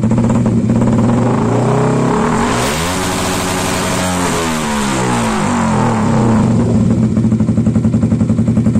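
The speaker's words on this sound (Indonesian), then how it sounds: "review knalpot Yakuza dari PJS Knalpot Purbalingga" A Yamaha R15 motorcycle fitted with a Yakuza aftermarket exhaust idles with a rapid throb, then revs up to a loud sustained roar and falls back, ending in a choppy idle close to the microphone.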